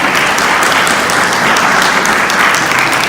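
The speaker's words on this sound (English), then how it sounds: "and let's give them a round of applause." At the 2018 Florida Realtors Convention, a large audience gives loud, sustained applause as military family members stand, a thick, even roar of many clapping hands heard close with no talking.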